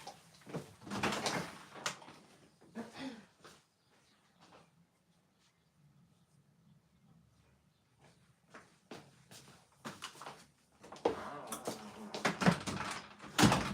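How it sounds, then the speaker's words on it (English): Interior door creaking open and shut in a home workspace during fabric painting, a few scraping, knocking sounds near the start and again toward the end, with a quiet low hum between. "That was the door creaking."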